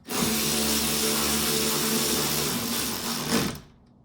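A power driver runs steadily as it tightens small screws into plastic during a window regulator replacement on a 1999 Pontiac Grand Prix, a close, loud, continuous motor whine with a short rise near the end before stopping.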